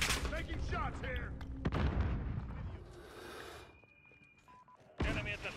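Video game gunfire during a VTOL fight over Piccadilly: loud bursts of shots and blasts, sharp cracks near the middle and at the end, with beeping tones and rumbling between them.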